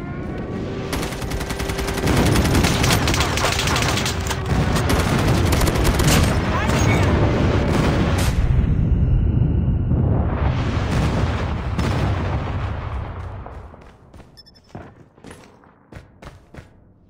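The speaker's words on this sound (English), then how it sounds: "Friendly airstrike incoming." Explosions and heavy gunfire in Call of Duty Mobile on the Dome map during a friendly airstrike, a dense, loud barrage of booms and rapid shots lasting about twelve seconds before thinning into scattered bursts and quieter pops.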